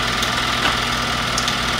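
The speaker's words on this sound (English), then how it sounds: "It's real live steam" Wilesco model live steam engine fired by solid fuel pellets, running with a steady close mechanical hum and light repetitive ticking, no voices.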